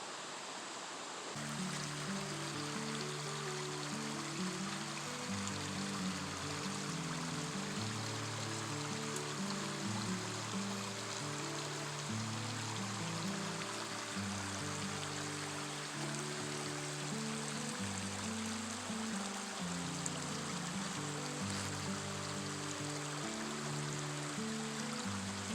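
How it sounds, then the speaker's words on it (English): Water flows in a continuous gentle rush on a trail in Pisgah National Forest, like a small stream, steady and moderately faint throughout with a low background hum. "Oh, water."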